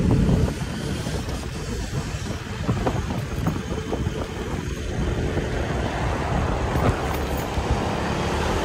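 A car driving on a road beside the Vatican walls in Rome, a steady loud engine and tyre rumble with traffic noise that keeps on throughout, no one speaking.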